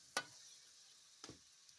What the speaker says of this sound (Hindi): इसको ऑयल में करेंगे फ्राई।